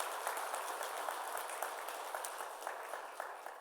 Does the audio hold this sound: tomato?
no